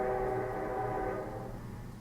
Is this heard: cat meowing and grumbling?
no